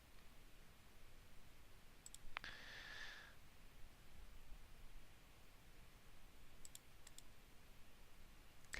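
A few faint, sparse computer mouse clicks during CAD drafting work, one near the start and a small cluster later, set against a quiet background hiss with no speech.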